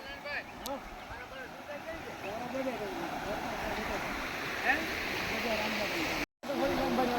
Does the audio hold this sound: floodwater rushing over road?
yes